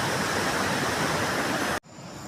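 Water rushing loudly in a stream or small waterfall near a village, a dense, steady roar close by that cuts off abruptly near the end, leaving quieter flowing water.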